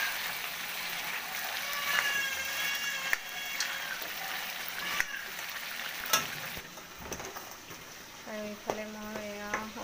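Meat sizzling and crackling in a pan as its water cooks off, a continuous close fry with occasional stirring scrapes and clicks, and a cat meowing near the end.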